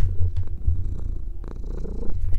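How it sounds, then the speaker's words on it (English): A cat purrs loudly and close by, a deep rumbling rhythm that rises and falls with each breath. "He is purring extremely loudly."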